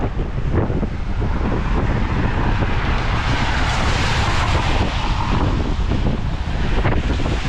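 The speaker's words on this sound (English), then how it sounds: "it's a bit windy" Loud wind buffeting a microphone while cycling toward the bridge to Krk in bad weather, a constant roaring rush with gusty thumps, no voices.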